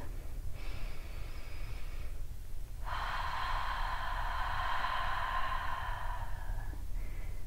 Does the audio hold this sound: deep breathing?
yes